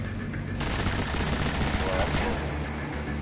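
A heavy machine gun with a 67-round drum fires a sustained, loud rapid burst in the video game Destiny, a dense roar of rounds lasting well over a second before easing off.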